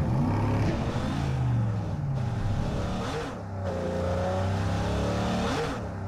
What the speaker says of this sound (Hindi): ये गाड़ी लेके वापस से निकलने वाला है यहाँ से